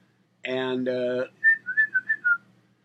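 A short whistle to call cats, then five quick chirpy whistled notes in a rising-falling pattern, close and clear, with no background noise.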